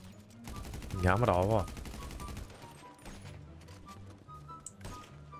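Rapid gunfire from GTA V rattles in quick bursts, near and loud, mixed with game music and someone speaking briefly.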